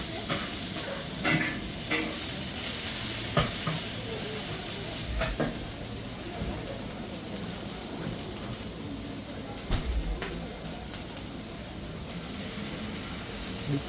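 Vegetables frying in oil at a food stall in Global Village Dubai, a steady sizzling hiss under crowd noise, with clatters and knocks from cooking utensils now and then.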